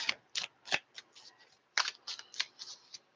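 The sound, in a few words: tarot cards being shuffled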